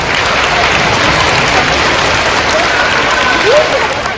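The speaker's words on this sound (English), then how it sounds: "Let's give them a round of applause." A school audience of children and families at an elementary school ceremony breaks into sustained applause, a loud, dense, even roar of clapping lasting throughout, with brief voices rising within it.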